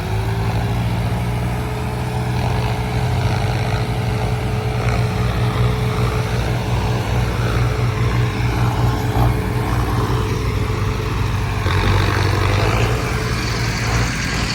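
Tractors fill a pit with soil on farmland, making a loud, unbroken diesel engine drone with a heavy low rumble. Wind buffets the microphone, and no one speaks.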